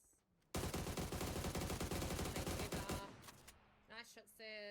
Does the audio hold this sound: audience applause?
no